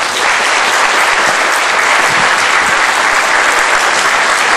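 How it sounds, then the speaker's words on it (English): Loud, dense audience applause fills the room at a California State Assembly District 1 candidate debate, a steady wash of many hands clapping without a break for several seconds. "Let's give him a big round of applause."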